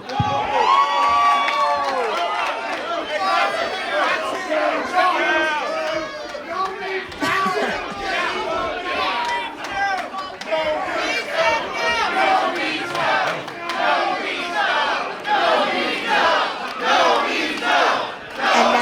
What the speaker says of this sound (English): The crowd just showing how much disdain they have for Hazard